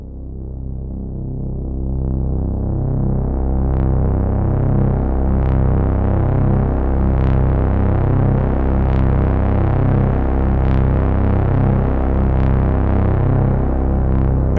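A Nord Drum 3P synthesizer plays a heavily distorted drum drone that hums low and thick, pulsing steadily with a throbbing beat that repeats every second or two.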